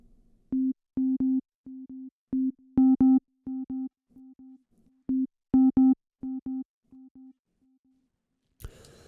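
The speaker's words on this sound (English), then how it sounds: "So you'll notice that the sound is now distorting because we're no longer getting a pure waveform on the delay." A sine-wave tone runs through a Soundtoys EchoBoy delay with its input turned up, sounding as a series of clipped, distorted beeps in an irregular on-off rhythm with harmonic overtones, closing with a short noisy burst.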